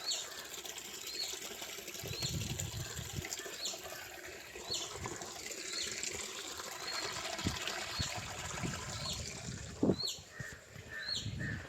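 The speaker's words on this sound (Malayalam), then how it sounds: "ഓടയിൽ നിന്ന് വെള്ളം വരുന്നുണ്ട് കേട്ടോ" Water trickles steadily out of a roadside drain during a quiet morning walk, a soft, continuous flow with birds chirping and calling around it.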